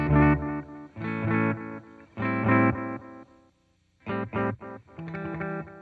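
An electric guitar run through a vintage effects pedal with a reverb-like wash, matched with TONEX amp modeling. Loud distorted chords ring out in several bursts, with a short silence before choppier stabs resume.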